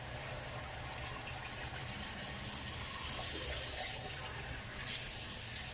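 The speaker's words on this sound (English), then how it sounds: "Let's go ahead and replace with warm water real quick, just to knock off some of this residual soap." Warm water runs steadily from a tap during a wet shave with a safety razor, making a soft continuous hiss and splash that stays faint throughout, with no voices.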